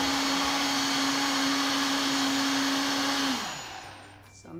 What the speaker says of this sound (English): Sounds like the Vitamix is being nice.